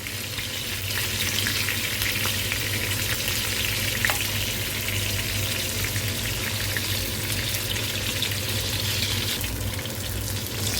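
Eggplant and green chilies frying together in a pan on a gas stove produce a steady, loud, close sizzle with faint crackles throughout, and no voices.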